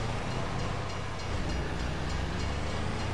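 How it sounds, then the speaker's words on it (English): Basic diesel locomotive in the Farming Simulator 22 video game rumbling past, a loud continuous low-pitched drone with rail noise, close and steady throughout. "there's a train. Basic diesel locomotive."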